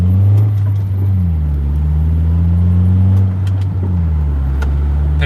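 A car with a Honda K24 engine, rated at about 160 horsepower, accelerates nearby. The engine note rises steadily through the gears, and brief dips mark each shift.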